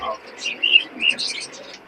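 Pigeons at a big bazaar pigeon market in Khulna give bright, scattered chirps and soft coos, several overlapping calls close by in a quiet stretch.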